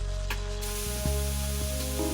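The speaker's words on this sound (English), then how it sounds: "Use the coolant spray to dry..." Coolant spray from Metal Gear Solid 2 hisses in a steady broadband burst over tonal game music and mechanical clicks, loud and continuous throughout.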